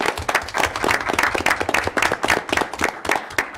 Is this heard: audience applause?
yes